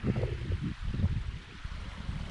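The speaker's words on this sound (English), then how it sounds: "There's a river that's made its way through the industrial tip." A river flows through an industrial waste tip at Blaenavon, a faint, rough rushing wash of water mixed with gusty wind noise on the microphone, steady and outdoors.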